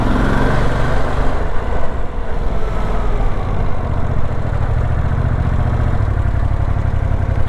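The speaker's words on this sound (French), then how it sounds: "Le moteur cogne pas, en troisième à 2000 tours à 30 km/h" A Ducati Multistrada V2S engine pulls in third gear at about 2000 rpm and 30 km/h, a steady, close, low-pitched hum that holds evenly without knocking.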